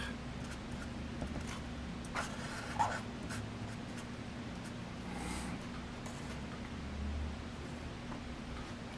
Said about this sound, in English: So I write it down